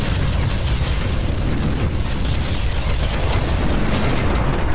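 An enemy hover gun blowing up in the Ground Control video game, a loud, sustained rumbling roar of explosion noise that stays dense and steady throughout, with no voices.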